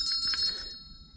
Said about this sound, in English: We got a brass bell.